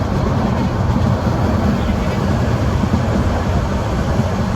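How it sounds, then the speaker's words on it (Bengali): Cox's Bazar Express train running, a dense, steady rumble and rattle heard from inside the carriage, loud and continuous with no breaks. "11টা 28 মিনিটে কমলাপুর রেল স্টেশন থেকে ট্রেনটি ছুটতে শুরু করে"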